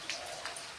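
Heavy monsoon rain falling steadily, a dense, even hiss with scattered droplet taps, heard alone at moderate level over a short stretch.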